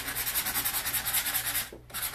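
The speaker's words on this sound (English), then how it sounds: "you're going to get some low-grade sandpaper, and you're just going to lightly sand your wood" Low-grade sandpaper lightly rubbing along the edges of painted wood in quick, even back-and-forth strokes, close and steady with a brief pause near the end.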